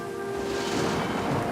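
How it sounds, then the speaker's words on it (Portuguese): Heavy rain falling at night during a thunderstorm over New York harbor, a steady dense roar of downpour with a low rumbling swell of thunder beneath, loud and continuous, with no talk. "debaixo de forte chuva e de relâmpagos"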